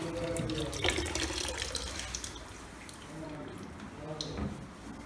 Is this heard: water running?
yes